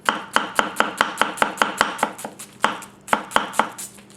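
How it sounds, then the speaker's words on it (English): A Masazumi 240mm carbon steel gyuto knife chops on a cutting board in a steady run of sharp, evenly spaced knocks, with a short pause near the middle before the chopping resumes, close and clear with no talking. "I believe we have enough flat board contact that chopping should be no problem"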